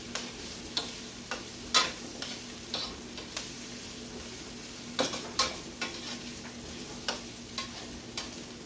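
Beef and broccoli stir-frying in a pan, a soft steady sizzle broken by repeated sharp clinks and scrapes of a utensil stirring against the pan, close and moderately quiet with no talking.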